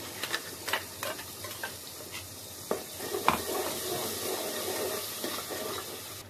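Ground onion-tomato paste tipped into hot masala in a pan sizzles loudly and steadily up close, with spoon scrapes and stirring clatter throughout.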